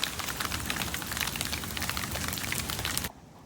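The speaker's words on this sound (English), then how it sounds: "Oh, this is cold rain." Heavy, cold Florida storm rain pours down steadily, a dense close patter and splash that fills the clip at constant loudness before cutting off abruptly near the end.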